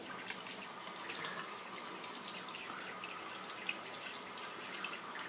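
A bathroom tap runs steadily into a sink for rinsing the face after a wet shave, a continuous close splashing hiss with small drips and no voices.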